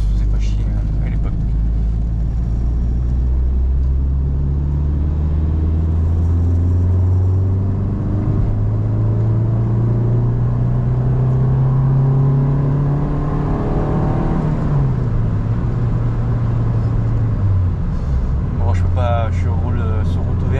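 A Peugeot 205 ZR engine droning from inside the car on an open road, loud and steady, its pitch rising as it revs up before a gear change and dropping briefly, then settling again.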